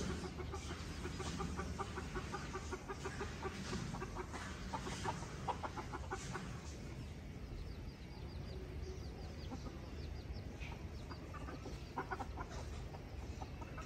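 Several farmyard hens cluck in repeated nervous bursts, close and fairly loud, with other fowl murmuring steadily behind them.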